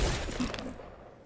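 A quick gunshot burst in Fortnite, loud and sharp at the very start and then fading into a faint decaying tail, with no talk over it.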